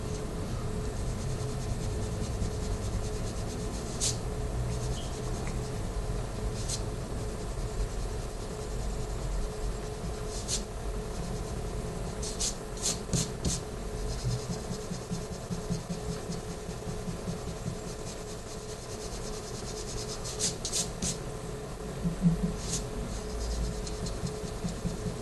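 A pencil drawing is erased and cleaned up on paper, producing continuous soft rubbing and scratching strokes with a few sharper ticks, close and fairly quiet.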